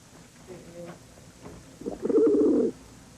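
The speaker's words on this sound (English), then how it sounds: "Everybody calls them pigeons, but they're rock doves." Rock doves cooing in a room at a wildlife centre: a soft coo first, then a louder, rolling, throaty coo nearby, with faint speech in the background.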